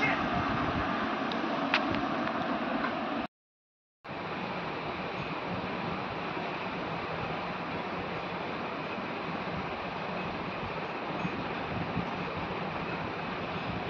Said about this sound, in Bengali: কি পরিমাণে হাওয়া দিচ্ছে দেখো।